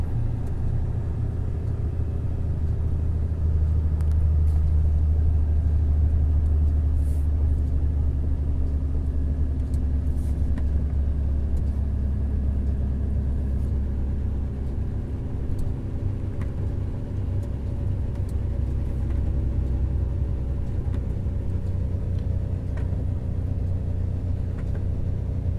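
A Volvo FH truck cruises in sixth gear on a mountain road near Paranaguá, a steady low engine rumble and drone inside the cab, continuous and fairly loud with no speech.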